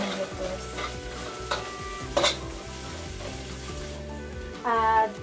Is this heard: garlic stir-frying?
yes